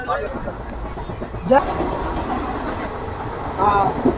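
A passenger train on a return journey from Ayodhya rolls along its rails with a continuous rumble and rattle heard from inside a coach, while brief voices break in now and then.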